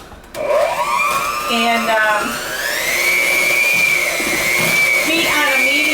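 Electric mixer beating two eggs and orange zest into a cookie dough, a loud, steady whirring drone that starts abruptly and keeps running, its pitch shifting slightly, with brief talk at the start.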